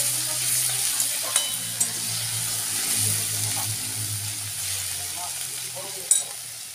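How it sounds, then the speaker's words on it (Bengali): Onion frying in a hot pan for biryani, a steady close sizzle with a few stirring clatters, loud and continuous with no talk. "এটা এখানে পেঁয়াজটা ভেজে নিচ্ছি"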